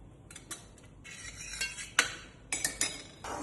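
Metal plate being greased with ghee for barfi, light scraping and clinking of a utensil against the metal in short irregular strokes, faint and close.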